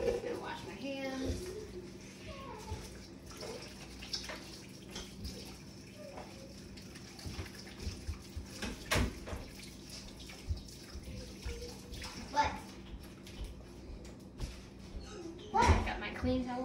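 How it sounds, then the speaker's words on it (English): Hands being washed under a running kitchen tap produce a continuous splashing water stream with scattered clatter, while a person talks over it. "I'm gonna wash my hands."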